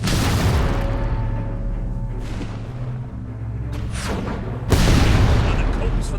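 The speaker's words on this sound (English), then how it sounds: "Start firing! Let's blow these buggers to smithereens!" Cannon fire and explosions in the Fable III video game, a dense, continuous rumble of booms with a heavy blast that swells loudly near the end, under shouting game voices.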